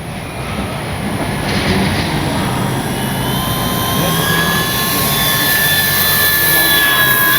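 A Flightline 1200mm F8F-1 Bearcat RC warbird makes a low gear-down pass as if landing, its motor whine loud and continuous with tones sliding upward as it passes close by.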